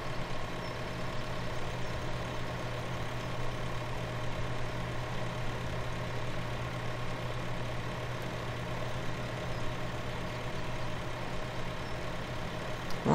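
A four-wheel drive tractor engine in Farming Simulator 17 drones steadily, a continuous low rumbling hum that stays even and unbroken throughout, with no voices.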